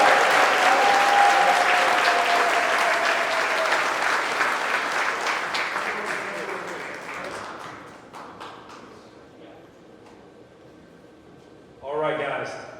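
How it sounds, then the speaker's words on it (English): Audience applause for coaching staff inductees at a football alumni hall of fame ceremony, a loud burst of clapping that gradually thins and fades out, followed by someone speaking. "Give them one more round of applause."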